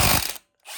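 A ratchet clicks rapidly while front fender bolts are removed on a Warrior ATV, a close, loud burst of pawl ticking that stops abruptly, then resumes after a short silence.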